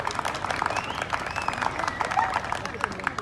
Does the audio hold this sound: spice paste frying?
no